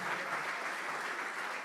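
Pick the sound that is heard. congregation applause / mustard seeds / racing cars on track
congregation applause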